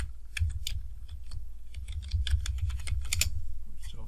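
Typing on a computer keyboard while entering a default password during software setup: a steady run of quick, light key clicks at close range, with no speech.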